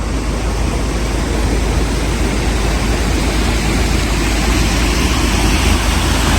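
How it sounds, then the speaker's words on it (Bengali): A waterfall pours in a continuous, loud, broadband rush of water at a cold outdoor spot, steady and unbroken throughout, with no talking. "কি যে সুন্দর একটা জলের শব্দ"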